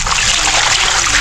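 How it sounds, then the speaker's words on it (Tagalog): Water splashes steadily over live mud crabs in a container, a loud, close, continuous pour with no voices. "Lagyan natin ng tubig."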